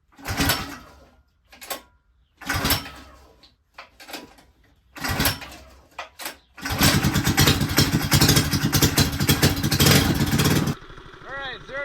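Mini bike engine fitted with a VM22 carburetor, heard first in short blips and then revving hard and steadily for several seconds as it accelerates, loud and close, before cutting off.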